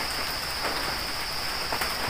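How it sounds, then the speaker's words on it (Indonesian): Rain falling steadily at a campsite, a dense even hiss of drops close by with a few louder patters and no voices. "karena ini hujan juga"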